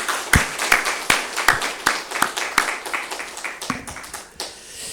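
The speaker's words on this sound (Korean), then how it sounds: "우리 교회학교 친구들을 위해서 크게 한 박수를 격려하겠습니다." A church congregation at a Sunday service claps, a dense run of hand claps that is moderately loud and tapers off toward the end, with no speech over it.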